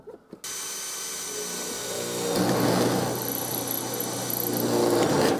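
A power drill whirs steadily after a brief knock, its pitch rising as the bit bites into garden room cladding, continuous and close.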